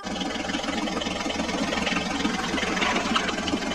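A toy John Deere tractor engine runs steadily on its own, a buzzy, continuous drone with a fast rattling pulse and no pauses.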